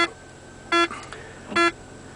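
Two short electronic warning beeps, evenly spaced and fairly loud, from the dashboard of a 1999 Range Rover P38 4.6-litre V8 automatic when shifting to the low-ratio gearbox, with quiet background hum between them.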